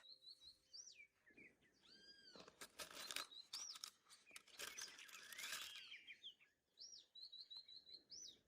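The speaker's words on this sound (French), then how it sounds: "Regardez, les oiseaux sont incroyables." Many birds chirp and tweet near a river, with clear whistled calls and dense overlapping song that swells in the middle and thins toward the end.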